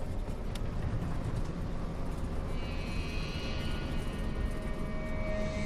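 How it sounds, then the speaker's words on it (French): Heavy, steady roar of a twin-engine airliner's engines heard from inside the cabin during the takeoff roll, a constant low rumble with a rising whine layered on top as the plane rolls down the runway. "Les 2 moteurs faisaient le même bruit pendant que l'avion roulait sur la piste."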